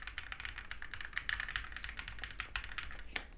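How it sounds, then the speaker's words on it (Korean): Rapid, steady typing on an Epomaker Tide 75 mechanical keyboard with a foam-dampened build, clear keystrokes clicking close up and alone without pause. "타건음 소리가"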